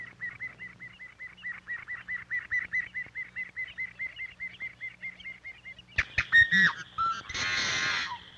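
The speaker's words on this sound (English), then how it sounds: "her mate continues his courtship song overhead" A piping plover repeats a long, steady series of clear piping notes in its courtship song overhead, followed by a few sharper calls and a brief burst of rustling noise.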